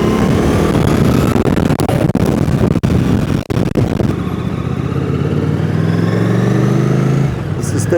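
A 1983 Honda CX650 Turbo motorcycle pulls hard while ridden, a loud close engine roar heavily buffeted by wind, with the pitch climbing steadily toward the end.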